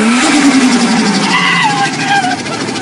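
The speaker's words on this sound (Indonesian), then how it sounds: "bunyi cu-cu-cu itu sebenarnya bukan hal yang bagus ya buat turbo" Turbo flutter from a modified Subaru WRX, a loud continuous rushing car sound with fluttering, chirping tones rising and falling over a few seconds, close and without talk.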